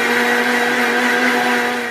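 An electric mixer grinder spinning a spice mix with a teaspoon of cumin into a smooth paste, giving a loud steady high motor whine with a constant hum, close up and alone, easing off slightly at the end.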